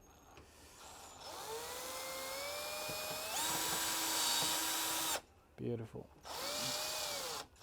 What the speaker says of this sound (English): This is where a power drill will come into its own